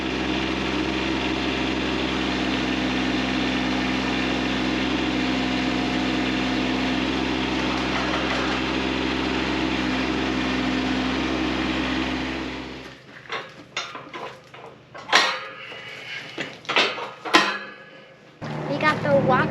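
A Kubota B2601 compact tractor with a rock bucket attached idles close by in a steady, even engine hum, then the engine stops and a person talks with scattered knocks and movement.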